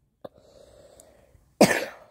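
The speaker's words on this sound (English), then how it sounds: "I'm coughing a little bit" A single sharp cough bursts out near the end, loud and close, after a faint low hum and a small click earlier.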